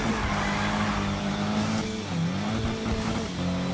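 Engine drone of a car sliding under the handbrake in the Need for Speed racing game, a steady loud roar that dips and bends in pitch midway as the car swings, with no talk over it.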